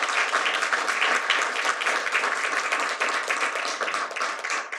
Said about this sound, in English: why don't we give our first panel a round of applause?